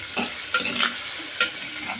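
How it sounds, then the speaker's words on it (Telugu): Eggs frying over a medium flame for egg curry, with a soft continuous sizzle and a few sharper bursts as they are stirred in the pan, and nobody speaking. "చక్కగా వేపుకోవాలండి ఇవి ఫస్ట్ మరి ఎక్కువగా కాకుండా మీడియం సూట్లో వేపుకోవాలి"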